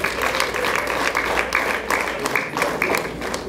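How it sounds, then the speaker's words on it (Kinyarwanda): Steady applause from a wedding crowd, dense and even for several seconds, with scattered voices faintly mixed in under the clapping. "duhuze ibiganza dukomera amashyi Sandrine"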